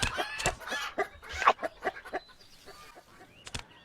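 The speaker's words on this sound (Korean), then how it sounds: "닭부리로 모이를 쪼는 게임입니다" A chicken clucks in a virtual reality game where the player pecks feed with a chicken's beak: a run of close, choppy clucks and squawks in uneven bursts that thin out into sparser calls, with no talking.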